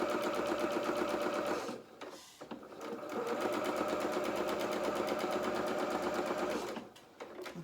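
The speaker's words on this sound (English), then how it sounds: "I'm now running the edge of my presser foot against the first line of stitches that I did." Sewing machine stitching a seam on a tiered dress, running at steady speed with its rapid needle chatter, pausing briefly twice before resuming.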